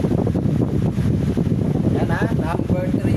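An electric fan runs at its highest setting, speed 3, producing a loud, steady rush of blowing air that sounds like wind buffeting close to the microphone, continuous throughout.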